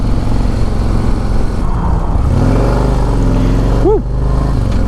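A 2024 Harley-Davidson CVO Road Glide pulls hard on the road, its engine droning loud and close with a steady rising pitch, a brief shift dip near the end, and wind rush around it.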